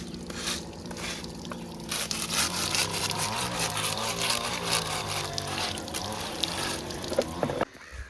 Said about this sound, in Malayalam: ഇത് പക്ഷെ കുറച്ച് ഫോഴ്സിൽ വെള്ളം വരും തോന്നണം കുറച്ച് അധികം വെള്ളം വരും തോന്നുന്നുണ്ട്